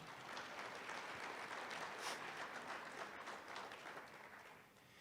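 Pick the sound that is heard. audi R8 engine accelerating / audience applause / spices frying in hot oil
audience applause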